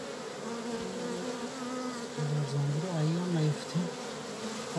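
Honeybees buzz steadily around a beehive, a dense close hum of many insects with individual wingbeats rising and falling in pitch over the swarm, no voices.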